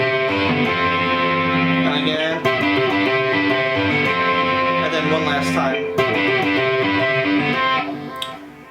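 Distorted electric guitar plays a sustained chordal passage, loud and dense, with brief breaks between phrases and a fade near the end.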